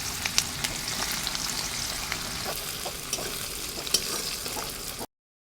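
Chopped onion hisses and crackles in oil left over from frying eggs, with cardamom, for egg biryani; a steady close sizzle runs throughout with occasional soft stirring clicks and pops.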